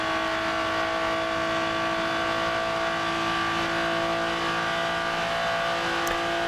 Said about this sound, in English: I think it's a something like 5 point something or 6 liter V12, so it's an incredible engine